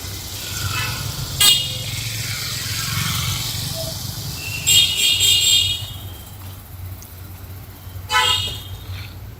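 Busy bus stand in Dindigul where buses bound for the hills wait, with several short car and bus horn toots at intervals over a steady low engine rumble and traffic murmur.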